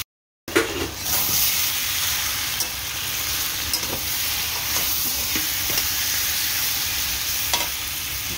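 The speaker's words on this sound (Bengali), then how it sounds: "কাশ্মীরি লঙ্কার গুঁড়ো আর হলুদ গুঁড়ো, নুন দিয়ে আলুটাকে ভালো করে ভাজলাম।" Potatoes fry in a pan with Kashmiri chilli powder, turmeric, salt and dried red chillies, giving a loud, continuous sizzle close up, with occasional scrapes and taps of stirring.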